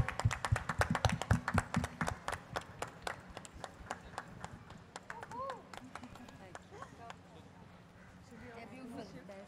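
A small audience at a Hindi film trailer launch claps for cast members called on stage: sharp, scattered hand claps in an uneven rhythm for several seconds, thinning out as people start talking.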